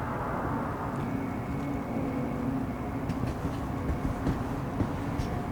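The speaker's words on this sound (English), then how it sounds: "Step away from the platform edge when train is approaching." A metro train in the Star Citizen video game pulls into a station platform, giving a steady, loud rumbling roar with faint high rattles and squeals throughout.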